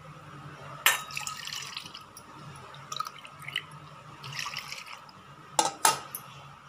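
Water is added to tamarind in a kitchen to soak it for tomato rasam, heard as faint trickles and drips with a few sharp clinks of a vessel, quiet and close.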